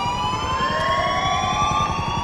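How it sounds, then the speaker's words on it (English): Emergency sirens wail continuously in the GTA 5 video game, several overlapping tones rising and falling steadily over a rumbling vehicle engine, loud and close throughout. "Listen to the sirens going off."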